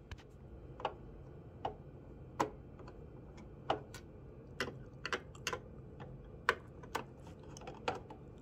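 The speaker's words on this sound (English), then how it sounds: "You wanna unscrew these two screws" Two screws are worked loose inside an Epson Home Cinema 2045 projector, producing sparse, sharp little clicks and ticks at irregular intervals against a quiet background, with no talking.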